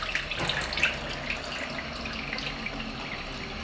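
Water pours into the drop container of a drop photography rig, a close, steady splashing trickle like a filling vessel, with small bright drips over it and no speech.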